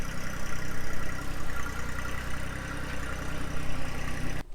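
A compact tractor engine idles up close with a loud, steady, low chugging rumble that keeps an even rhythm. It cuts off abruptly at the end, and no one talks over it.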